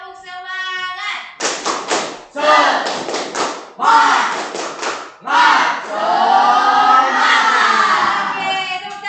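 Students in a classroom clap a brisk rhythmic sequence together, followed by a loud unison chanted cheer from the group, near and energetic.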